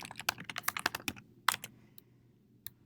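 Quick bursts of keystrokes on a computer keyboard, close and crisp, with a rapid run of taps that thins out into a few scattered presses, no voices.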